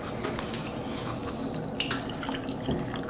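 Water poured into a bowl for a Pomeranian puppy, a steady close splashing and trickling with small drips, continuous and fairly loud, with no voices.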